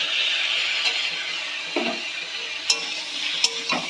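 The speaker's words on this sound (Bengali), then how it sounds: "তো চলো এদিকে সয়াবিনের মশলাটা কষানো হোক" Large soybean chunks frying in a pan with a ground paste of cumin, coriander and green chilli, a steady close sizzle broken by several scraping stirs of a spoon against the pan.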